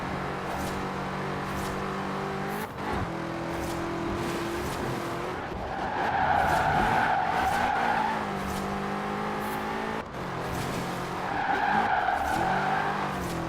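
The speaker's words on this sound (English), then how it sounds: "You just steer a little bit harder, and boom, it goes straight into a drift." A car drifting in Forza Horizon 4 sends out two loud bursts of tire squeal over a revving engine, with quieter engine stretches and gear shifts in between.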